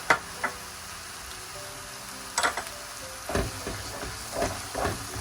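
A spoon stirs beaten yogurt into spiced eggplant in a hot pan, with a constant sizzle broken by a few sharp scraping knocks of the spoon against the pan.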